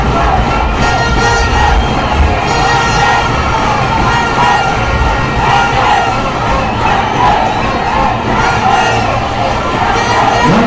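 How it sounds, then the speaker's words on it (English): A roaring crowd cheers and yells nonstop at a rugby league match between Kandy SC and Navy SC, a loud, dense, continuous wall of shouting and whoops throughout. "The crowd is on their feet, and they go berserk as their heroes make their way out of the center."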